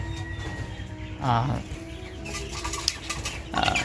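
Tiger chickens cluck and call amid a busy farmyard background, with a louder squawk near the middle and faint rustling toward the end.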